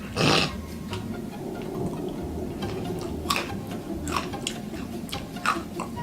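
British crisps being chewed close to the mic, with soft irregular crunches and a few sharper crackles over a low background hum, no speech.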